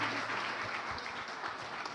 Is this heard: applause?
yes